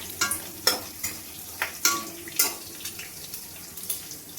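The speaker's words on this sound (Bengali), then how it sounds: "ফোড়নটাকে আমি একটু ভেজে নেব।" Whole spices for a tempering frying in oil in a wok, with a soft continuous sizzle and repeated brisk stirring scrapes at an uneven rhythm, close by and without talk.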